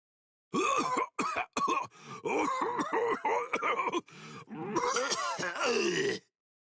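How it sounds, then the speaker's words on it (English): A video game character coughs and groans repeatedly in rough, strained bursts, close and fairly loud, ending in a longer drawn-out groan. "Hey, how long you gonna cough?"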